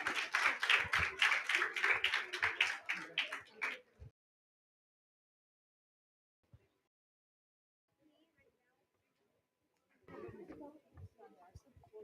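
An audience applauds grade 4 and 5 children after their performance at a cultural event: dense clapping for about four seconds that stops abruptly, then near silence, with voices returning near the end.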